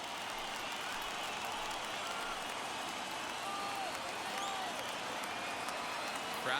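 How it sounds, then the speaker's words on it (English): A baseball stadium crowd at a Dodgers–Padres playoff game rises and roars on a full 3-2 count, a broad, steady wash of cheering and clapping from the stands with faint voices under it. "Crowd gets up for the 3-2."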